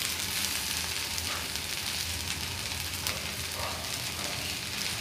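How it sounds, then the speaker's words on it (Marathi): Okra stir-fried in a pan with tomato and chopped coriander gives a steady, fairly loud sizzle that runs unbroken throughout, with faint scraping of stirring now and then. "व्यवस्थित परतून घेऊया।"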